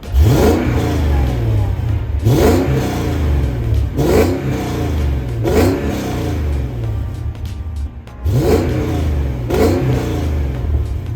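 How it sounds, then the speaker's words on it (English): A deep, throaty V8 engine of a 2006 Mercedes-Benz E55 AMG (W211) revs repeatedly in strong, rhythmic bursts, loud and close, with a brief dip before the revving resumes. "Very throaty and beautiful V8."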